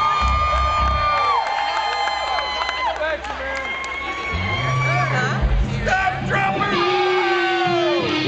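A concert crowd at Rams Head Live in Baltimore cheers, yells and whoops loudly and continuously, with sustained shouting voices swelling and overlapping for several seconds.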